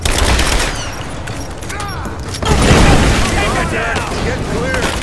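In the video game Rise of the Tomb Raider, a demolition charge goes off with a loud, rumbling blast partway through, amid rattling gunfire, combat clatter and voices shouting in the background.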